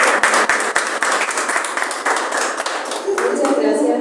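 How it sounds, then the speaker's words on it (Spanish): Audience at a book presentation giving the author a strong round of applause: loud, close clapping with sharp individual hand claps audible early on, continuing steadily, with a voice beginning to speak near the end. "si le podemos dar un fuerte aplauso"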